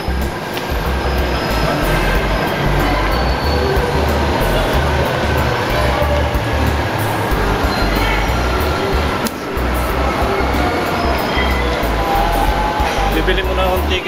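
Manila MRT train ride heard from inside the car: a steady, loud rumble of rolling wheels and hum filling the whole span, with a brief dip midway and faint squeals, people talking beneath it.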